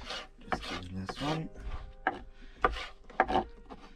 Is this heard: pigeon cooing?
no